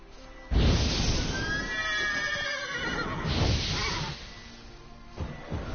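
A horse in the video game The Witcher 3 gives a loud, close, drawn-out whinny with shaky quavering pitch, followed by a second shorter neigh and snorting.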